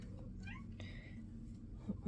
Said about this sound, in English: I don't know why my cat is meowing and being a weirdo